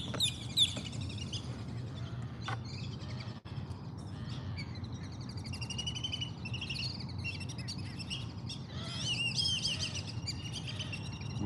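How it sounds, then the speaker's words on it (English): Whistling ducks call near a lakeside seawall, with high whistled chirps in bursts over a low rumbling background; the calls are moderately clear, heavier at the start and again near the end. "Whistling ducks, I think."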